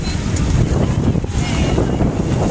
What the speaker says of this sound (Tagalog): Guys, mahangin, mahangin.